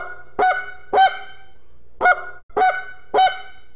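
A goose flute, a handheld waterfowl call, sounds five short, loud clucking honks in succession with brief pauses between them, played alone and close up.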